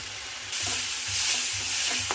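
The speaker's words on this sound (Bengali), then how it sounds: "মশলাটা কষিয়ে নিয়ে ফিরে আসছি।" A spice paste of ground ginger, onion, turmeric and chili powder frying in a pan for fish curry; a soft hiss swells into a louder steady sizzle with a few light stirring knocks.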